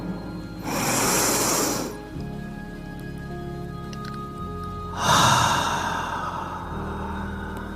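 Two long, deep inhales during a guided breathing exercise, each a breathy rush lasting over a second, close and fairly loud, with quiet pauses between them and no talking.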